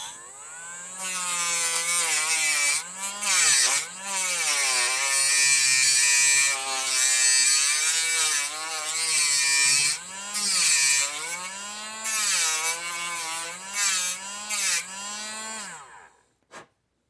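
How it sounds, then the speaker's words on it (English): A Dremel cutoff wheel notches metal for motorcycle LED turn signal mounting, a loud high-pitched whine that rises and dips with load and cuts out in short gaps before stopping at the end. "I'm going to use this Dremel. Got a cutoff wheel here."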